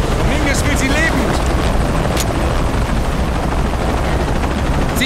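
A helicopter in the video game Shadow of the Tomb Raider keeps up a loud, continuous rotor drone throughout, with voices talking over it.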